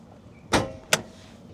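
A hood release lever pulled inside a 1994 Isuzu Trooper, two sharp mechanical clunks about 0.4 seconds apart, close and fairly loud against a quiet background.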